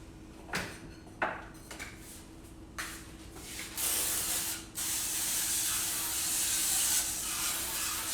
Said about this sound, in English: I'm also going to use a little bit of avocado oil spray just so it doesn't stick in the bottom of the pan.